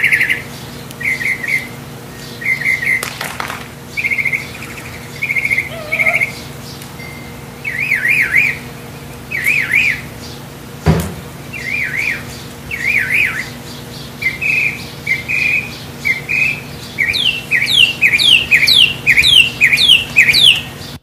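A mockingbird sings a long, loud series of repeated whistled and warbled phrases mimicking a car alarm, cycling through different siren-like patterns that grow denser and faster toward the end, with no talk.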